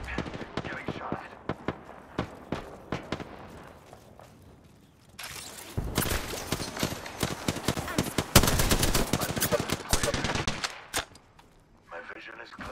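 Gunfire in the video game Apex Legends, with scattered single shots giving way to loud, rapid automatic bursts and dense volleys in the middle, then tapering off.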